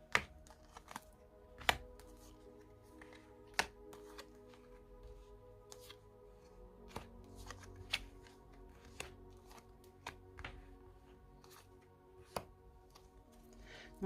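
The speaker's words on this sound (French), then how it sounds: "On va mettre 5 cartes et on va recouvrir." Tarot cards are dealt out and covered on a table, giving scattered crisp slaps and flicks at irregular intervals, quiet and close, with no talk.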